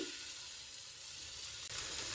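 Besan-coated chilies frying in hot oil give a steady, fairly faint sizzle with a constant hiss throughout, and no voices.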